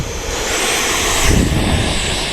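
A Freewing Vulcan RC model jet runs at full throttle on takeoff in a crosswind, giving a loud, steady high-pitched whine and hiss that swells briefly midway.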